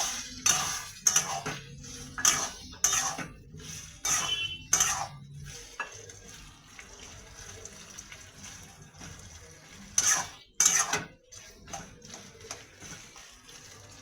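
Cornflour is stirred into water for chili chicken, with a series of spoon clinks and scrapes against a bowl in short bursts, several quick taps early and a couple more near the end, fairly close.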